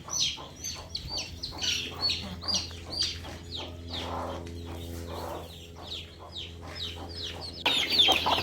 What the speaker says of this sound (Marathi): कशी छान अशी कोंबडी पिल्लांना घेऊन बसते